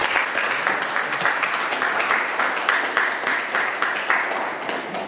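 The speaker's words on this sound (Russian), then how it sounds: "я бы просто хотела, чтобы мы поприветствовали Галину Петровну аплодисментами" Audience applause at the opening of an art exhibition, steady dense clapping from a crowd filling the room throughout, with no speech over it.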